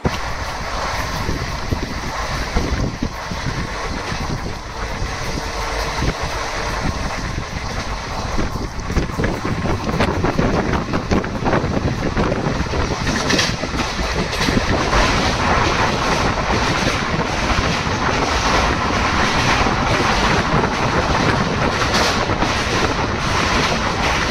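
Amravati Pune Express rolling between Dharashiv and Pune, a steady broadband rumble of the moving train with wind and faint clatter running continuously and loud throughout.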